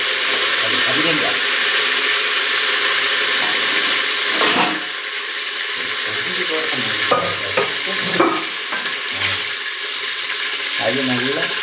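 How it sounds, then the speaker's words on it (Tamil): Mint and coriander leaves stir-fried dry in a pan, a steady sizzle broken by repeated scraping strokes of a spoon, with a voice talking over it at times. "அது நல்லா ட்ரையாக கிண்டிங் கொடுக்குறோம்"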